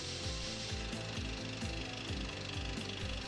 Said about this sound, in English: Push the tool in to sharpen one side. Repeat this process for the second side.